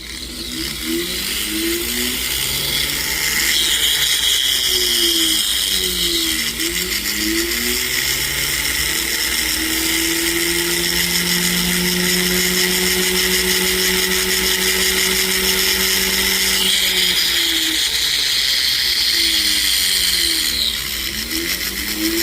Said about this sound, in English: we still got to do some filing down here